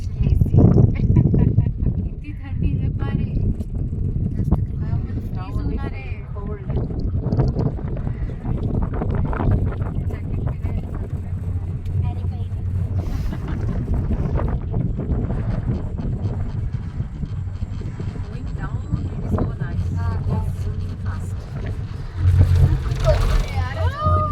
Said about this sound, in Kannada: this is ಗಂಡೋಲಾ ride face ಒನ್ನಿಂದ face ಟೂಗೆ